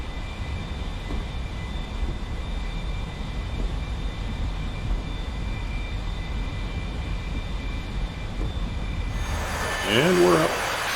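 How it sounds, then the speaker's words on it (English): Military aircraft in a flight-simulator game rolling down the runway for takeoff, a steady engine drone throughout that swells and rises in pitch near the end, with faint voices over it. "And we're off down the runway"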